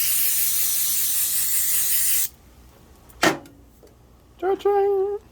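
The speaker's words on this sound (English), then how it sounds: "Well, that side is dirty, so gotta spray it down." An aerosol 3M spray cleaner hisses in a loud, continuous burst for about two seconds, followed by a single knock and a brief spoken remark.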